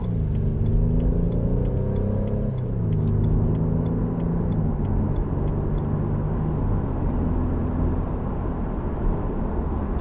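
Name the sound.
2014 BMW Z4 sDrive 28i engine setting off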